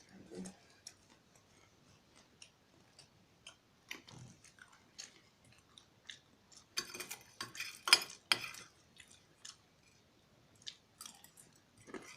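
Someone chews crunchy bread close up, with sparse crisp bites that become louder and denser midway, alongside faint cutlery clinks and quiet talk.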